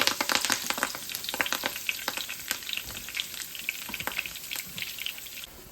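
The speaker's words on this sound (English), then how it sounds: "Let that extra virgin olive oil heat up." Extra virgin olive oil heats in a pan, crackling and sizzling steadily with dense popping spits, close and fairly loud throughout, with no one talking.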